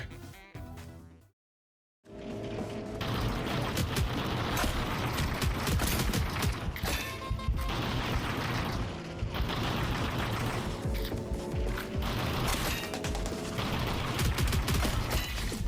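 Rapid automatic weapon fire in the video game Frenzies fills the scene with a loud, sustained rattle of shots over game sound, after a brief silent gap near the start.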